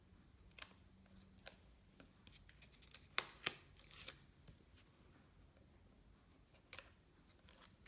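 Backing is peeled off adhesive paper, producing faint, close crackles and sharp little snaps and tearing sounds scattered irregularly over several seconds, with no one talking.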